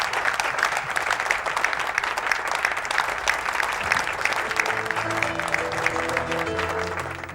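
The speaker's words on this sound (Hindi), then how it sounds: "मैं चाहूँगा कि एक ज़बरदस्त सी तालियाँ होनी चाहिए इंडस विजन के लिए।" Concert audience at a tribute concert breaks into loud, dense applause that holds steady throughout. Sustained tones from instruments come in beneath the clapping toward the end.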